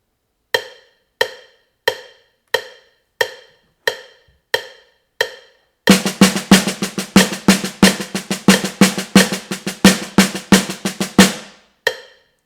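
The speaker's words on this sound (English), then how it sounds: "the triple paradiddle sounds like this" A drum triple paradiddle played on a snare: eight slow, evenly spaced single strokes ring out first, then a fast continuous run of sticking with accented hits, crisp and close, ending on one final stroke.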